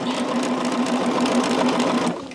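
Sewing machine stitching quilt rows together, a close, steady rapid needle whir running continuously before it slows and stops at the end.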